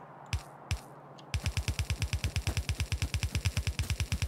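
Gun turrets in Factorio fire two isolated shots, then break into sustained rapid automatic fire, a fast even rhythm of sharp, loud reports repeating steadily to the end.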